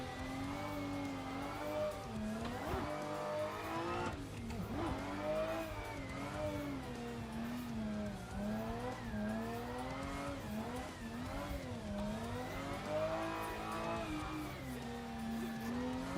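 A car drifting in the racing sim Assetto Corsa, its engine holding a steady high rev that climbs and dips as the throttle is worked, with faint tire squeal running continuously and no talk.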